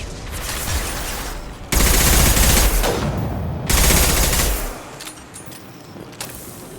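A rifle in Mass Effect 2 fires in loud, close sustained bursts of rapid automatic shots, with brief pauses between them.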